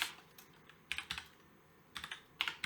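Quiet clusters of computer keyboard keystrokes while coding, short bursts of clicky taps separated by pauses, close and soft with no talking.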